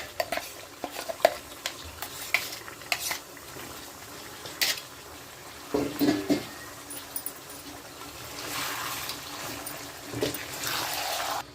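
Stirring spice paste into Andhra-style spicy chicken fry in a pan, with scattered scraping and clinking of a utensil against the pan over a soft sizzle, louder bursts of stirring around the middle and the end.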